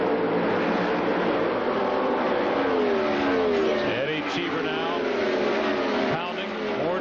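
IRL Indycar race cars in traffic at Phoenix in 1999 scream past in a continuous loud roar with rising and falling pitch sweeps as cars pass, under a commentator's voice.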